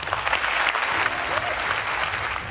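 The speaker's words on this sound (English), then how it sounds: "Let's give them a round of applause." A large audience applauds the Apple executive team, dense sustained clapping that holds steady and loud from start to finish.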